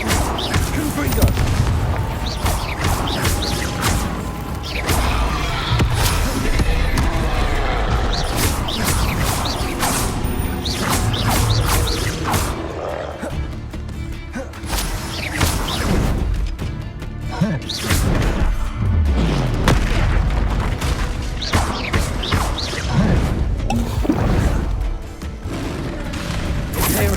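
Confringo fire-blast spells explode over and over in Hogwarts Legacy combat, a dense, continuous barrage of booms, crashes and thuds mixed with spell-casting voice shouts and game clatter.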